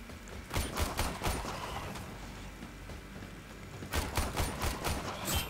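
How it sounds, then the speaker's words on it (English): Gunfire from the Warframe video game, a Rank 2 qualification mission played as Loki: bursts of rapid shots crackle in two clusters at the start and end, with a steady mechanical din between. "Stop shooting me."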